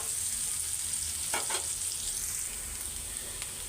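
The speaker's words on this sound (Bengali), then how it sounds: "পেঁয়াজ লাল লাল করে ভাজা শেষ" Onions fry in a pan with a steady, close hiss of sizzling oil, and a couple of quick utensil clinks partway through.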